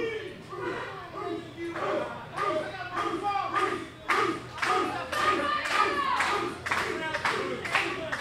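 The wrestling crowd claps in a steady rhythm and cheers in the arena, with a commentator talking over it.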